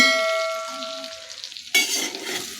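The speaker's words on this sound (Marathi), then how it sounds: "आता ही चिरलेली भेंडी आहे ती यामध्ये टाकते" Chopped okra is tipped into a hot pan of spices, then stirred: a brief metallic ring fades before a burst of sizzling and scraping takes over, close and fairly loud with no voices.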